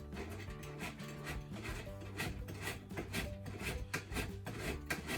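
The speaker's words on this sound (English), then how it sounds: "I froze some butter overnight, some of the vegan block. We just need to grate this." A frozen block of vegan butter is grated by hand in a home kitchen, making a continuous soft rasping scrape in repeated strokes, close and fairly quiet.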